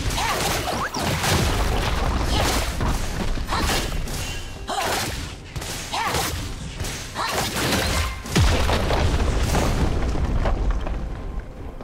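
Continuous heavy booms and crashing impacts from a turret being destroyed during a League of Legends mid-lane battle, loud and dense with rapid bursts and thuds layered over one another throughout.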